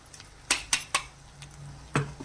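A utensil clinks sharply against a pan several times as ground powder is stirred into gongura leaves cooking in oil, four distinct metallic knocks spaced unevenly, close and fairly quiet.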